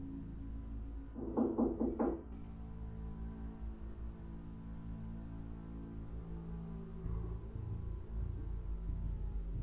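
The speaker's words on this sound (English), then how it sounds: "Maru hears knocking from the glass back door" A few quick knocks sound on a glass back door in a horror game. The short cluster is moderately loud over a steady low rumble, and then only the ambient drone continues.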